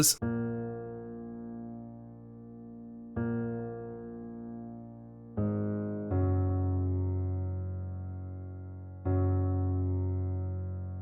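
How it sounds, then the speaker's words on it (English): Sustained synthesized bass notes played one at a time, each struck and left to ring with a slow decay, five notes in steady succession. "So just these bass notes by themselves sound something like this."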